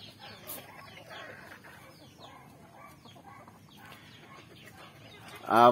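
Backyard chickens cluck softly in a pen, scattered low murmurs and short clucks under quiet talk, ending with a louder, sharper cackle close by.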